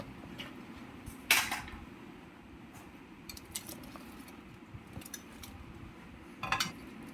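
A spoon stirs fruit into creamy sago dessert in a bowl, giving soft wet squelching with a few sharp clinks of metal against the dish, close and fairly quiet, with no voices.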